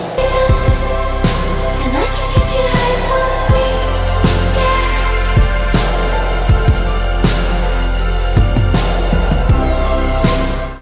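A big punchy pop drum mix with gated reverb on the kick and snare: steady, loud, repeated drum hits, each burst of reverb cut off short, over a full, dense mix for about eleven seconds.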